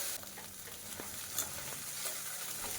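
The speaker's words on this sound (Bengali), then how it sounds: "এবার আদা আর কাঁচা লঙ্কা বাটাটা আমি দিয়ে মশলাগুলোকে একটু কষিয়ে নিচ্ছি 1 মিনিটের জন্য" Ginger and green chili paste sautéing in oil on a medium-low gas flame, a soft, continuous sizzle with light, occasional stirring clicks and scrapes, fairly quiet and close.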